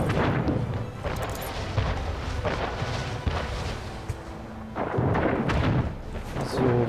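Cannons fire during a naval battle in the video game Anno 1800, a series of heavy booms and thuds rolling one after another at close range, with dense rumbling between the shots.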